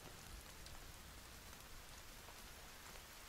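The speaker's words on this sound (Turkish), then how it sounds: "Şu yağmurun geçmesi lazım." Steady rain falls in the survival video game The Forest, a dense, continuous hiss of drops on surfaces that holds evenly throughout with no voices.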